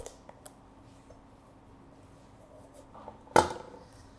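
A kitchen knife cuts down through a fruit and cracks it in half. After a few faint taps, a single sharp, close crack bursts out and then fades quickly.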